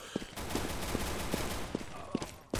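CS:GO gunfire heard as a series of short, regularly spaced shots, about six evenly timed pops at moderate distance over a constant background of game noise.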